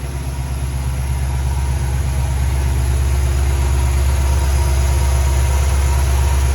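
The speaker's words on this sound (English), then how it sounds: "Running way smoother with the new spark plug, so I'm glad I changed those out" An engine idling smoothly and steadily after a new spark plug and exhaust header gaskets were fitted, a loud, even low rumble with a constant hum and no voices.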